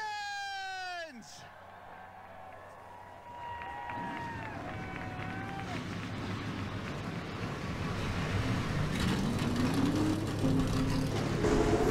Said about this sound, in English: Forty-two engines come to life here in Vermont